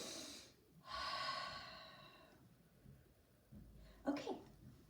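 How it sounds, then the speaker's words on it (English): A person draws a deep, audible breath in, a breathy rush lasting over a second, followed a few seconds later by a shorter exhale or snort, with faint background noise and no speech. "let me take a breath"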